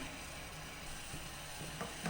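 Cassava fufu thickens in a pot under steady stirring, a continuous low bubbling and scraping texture with faint clicks from the spoon, close but soft, with no voices.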